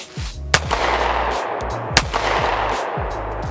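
Two sharp, loud pistol shots from a Bul Armory SAS2 Viper with a 3 1/4 inch barrel, fired about a second and a half apart at an outdoor range, each followed by a rolling echo.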